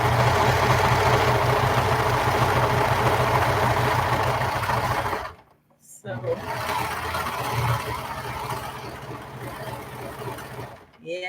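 Baby Lock 1034D serger stitching a hem, a fast, even mechanical hum and rattle running close up, stopping briefly around the middle before starting again, with some talking underneath.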